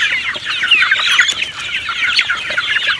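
Two-month-old Rhode Island chickens on a farm cluck and chatter together in a busy, continuous flock. The sound is close and fairly loud.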